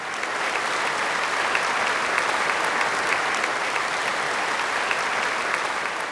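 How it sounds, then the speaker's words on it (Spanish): Steady applause from a church congregation fills the space, dense and even throughout with no break, a crowd clapping together at close range. "Le damos un aplauso por esto al Señor."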